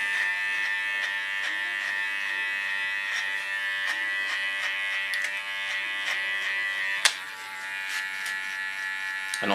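An electric hair clipper buzzes steadily as it runs through short hair, with a bright, even hum broken by small clicks and one sharp knock near the end, close and moderately quiet.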